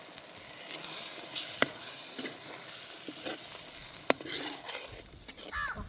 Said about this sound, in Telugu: మటన్కి మసాలా బాగా పట్టేలాగా కలుపుతాను.